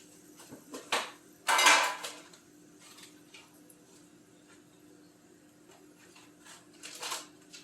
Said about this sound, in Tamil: ஒரு 3 ஏலக்காய், ஸ்டார் அணி எல்லாம் போடுறேன் பாருங்கள்